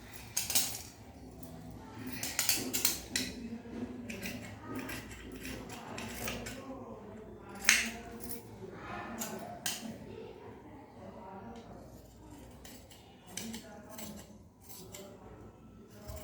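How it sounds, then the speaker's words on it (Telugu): Scissors cut through blouse fabric in a run of crisp snips and metallic clicks, some sharper than others, close and fairly quiet, with a faint voice in the background. "ఇది కటింగ్ చేసేస్తాను ఇప్పుడు చక్కగా ఇది తీసేస్తానండి కట్ చేసేసి తీసేస్తాను"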